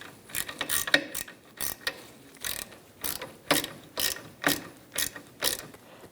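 A socket ratchet tightens a bolt on a 2002-2006 Honda CR-V during rear parking brake cable work, with a close, crisp series of about ten clicking bursts in a steady back-and-forth rhythm.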